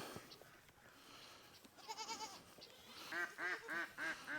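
A farm duck quacks in a rapid series of harsh, nasal calls near the end, with other livestock bleating faintly in the background.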